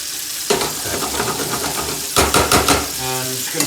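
Onion, garlic and butter sweat slowly in a pan over low gas, giving a steady soft sizzle broken by clattering bursts of stirring.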